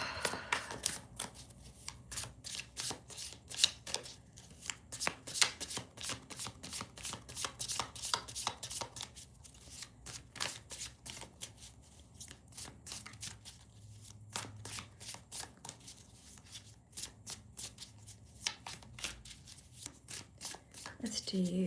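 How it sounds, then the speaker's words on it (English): A deck of tarot cards is shuffled again and again during a live reading, giving quick bursts of crisp riffling clicks over a faint background, with people talking now and then. "Let's shuffle."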